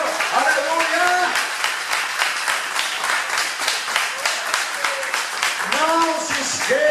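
A church congregation claps through a Portuguese-language worship service, with sustained applause mixed with cheering voices and rising, singing-like exclamations from the crowd.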